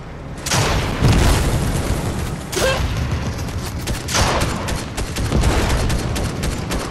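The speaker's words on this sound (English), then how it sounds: "I'm assuming they're shooting." Gunfire in the video game Fortnite, a dense burst of repeated shots and booms mixed with heavier blasts, loud and sustained across several seconds with no talk over it.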